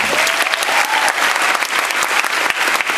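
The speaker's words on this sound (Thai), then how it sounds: "บ้านเราอ่ะขอเสียงปรบมือให้หน่อย" Concert crowd claps steadily for an anniversary moment, a thick continuous round of applause with a brief faint cheer early on, loud and close.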